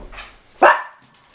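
A single sharp dog bark, close and loud, preceded by a softer muffled yip.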